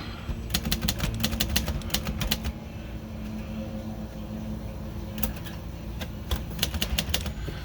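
Vintage Royal Aristocrat Quiet DeLuxe typewriter, freshly repaired after sticking keys, typed in two bursts of crisp rapid keystrokes separated by a pause, close and clear over a low steady background hum.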